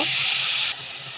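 Fried onions and spices sizzle in a pan for a jackfruit curry: a loud, steady hiss that abruptly drops to a softer, continuing sizzle after less than a second.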